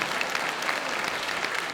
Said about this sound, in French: elle est quand même parvenue à se faire applaudir